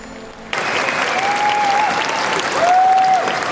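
Audience applause at an amateur circus in Peru, a dense burst of clapping that starts abruptly and holds steady with some crowd noise, loud and close.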